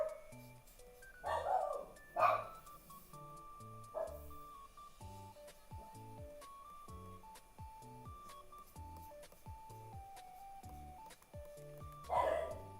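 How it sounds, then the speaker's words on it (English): Dogs barking intermittently nearby, loud outbursts at the start and end with quieter yips and whimpers in between. "And they're gonna keep barking."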